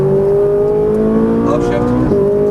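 A Ferrari 458 Italia accelerating on a race track, its engine note loud and close with a rising pitch, while an instructor talks over it from inside the car.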